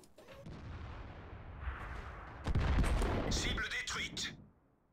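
A tank gun booms in World of Tanks, a heavy blast with a long rumbling tail and some debris crackle, loud and near amid the game's ambient battle noise.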